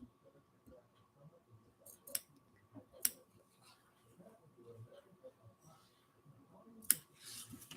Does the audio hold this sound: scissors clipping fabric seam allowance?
yes